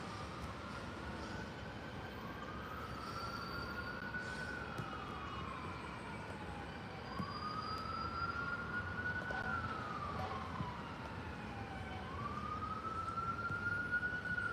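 Train 640 from Harrisburg approaching from afar, with a faint wavering horn or siren-like tone sounding repeatedly over distant rumble and background noise.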